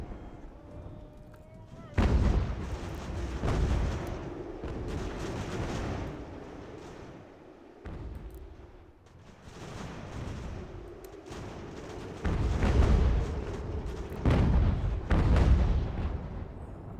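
Musket volleys and artillery fire from an Ultimate General: American Revolution battle at Salem, with repeated heavy booms and crackling gunfire bursts rolling in waves, a voice talking over the din.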